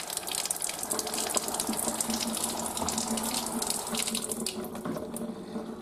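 A Quooker Fusion kitchen tap runs fizzy water in a steady, close hiss and splash into the sink, continuous for several seconds with no speech.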